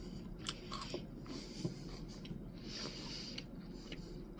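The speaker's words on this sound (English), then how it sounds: "Let me take one bite." Faint, quiet crunching and chewing of a cranberry chocolate chip cookie, a few soft bites and mouth noises close to the mic over low background hiss, with no talking.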